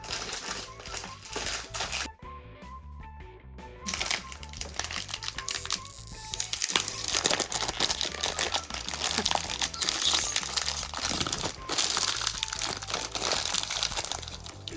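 A plastic snack wrapper crinkles and rustles steadily, with sharp crackling bursts and a short quiet gap early on, close to the listener.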